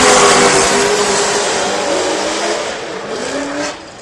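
Formula Drift cars, including a Chevrolet Camaro, drifting through a turn at a competition, producing a loud, sustained engine roar blended with tire noise that fades slightly toward the end.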